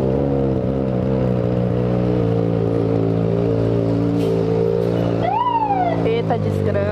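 Police car siren wailing with a rising sweep toward the end, heard over a steady motorcycle engine drone from a Yamaha XJ6 ride on city streets.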